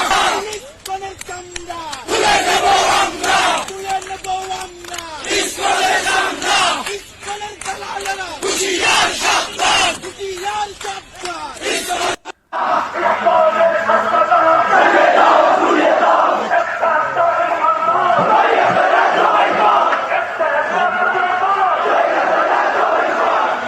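A large protest crowd marching through the streets of Dhaka, Bangladesh, shouting and chanting together in a dense, continuous roar, loud and close throughout with a brief break midway.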